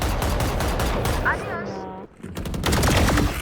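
Sharp gunshots from the shooter game Valorant ring out in quick succession amid game effects, loud and close, with someone talking over part of the action.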